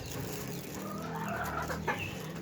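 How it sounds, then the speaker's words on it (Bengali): Backyard chickens being fed chopped cauliflower stalks cluck steadily and close by. The soft, continuous fowl chatter has a slightly louder note near the end. "এখন আমরা মুরগিকে দিব খাইতে"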